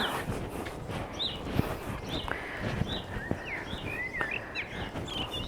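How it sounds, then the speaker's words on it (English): Birdsong drifts in from outdoors in an April garden: scattered chirps and short whistled phrases rise over a steady background hum, joined by occasional soft knocks or footsteps. "You can hear the birds singing."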